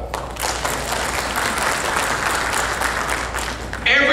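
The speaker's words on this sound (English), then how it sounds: "By applause." An audience at a Libertarian Party talk bursts into steady applause that holds for several seconds, full and even, with no speech over it.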